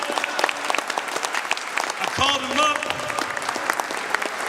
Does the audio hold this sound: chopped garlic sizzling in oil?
no